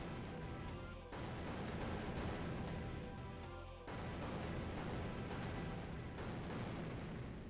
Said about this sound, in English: It's a lot of explosions.